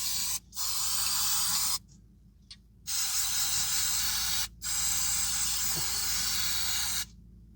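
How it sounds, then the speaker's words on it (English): Fluid Film rust inhibitor hisses from an aerosol can onto a 2017 Toyota Corolla's lower control arm area in several long, steady sprays separated by short pauses, close and fairly loud. "I just like to spray a little bit of the fluid film stuff to prevent rust"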